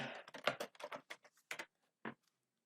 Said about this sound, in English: when I'm over here typing